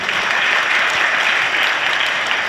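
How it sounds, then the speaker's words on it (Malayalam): Loud, dense applause from a church congregation praising the Lord, a steady wash of many hands clapping at once without pause. "ഇത് കൈയടിച്ച് കർത്താവിനെ മഹത്വപ്പെടുത്തിക്കേ."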